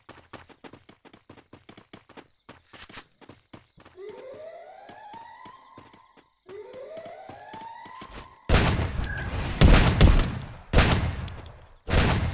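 A SPAS12 shotgun firing in the game Free Fire: quiet clicking and rising whooshing tones lead into several heavy, booming blasts close together near the end.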